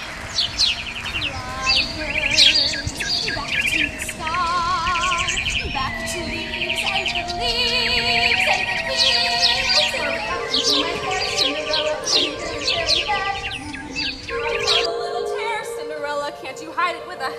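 Birds chirp and tweet in quick, bright bursts over a steady low hum, the calls scattered and overlapping for most of the stretch.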